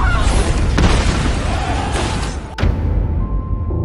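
A WWII-era flare bursting in a film scene, booming with sharp thumps and a dense roar that cuts off abruptly, then lower rumbling with a thin sustained tone.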